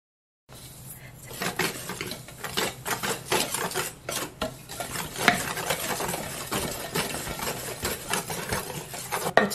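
A whisk stirs dry barley bran powder in a large basin, a busy, steady run of scraping swishes and light knocks that keeps going throughout at close range, with some talk mixed in.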